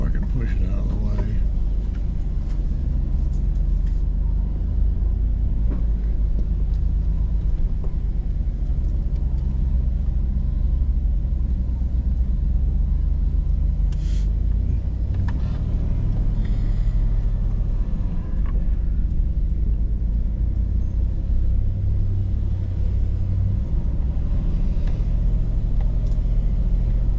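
A Hummer H2 crawls along the narrow rocky Grizzly Ridge trail in rain and sleet, its engine rumbling low and steady throughout, with occasional knocks and people talking inside the cab.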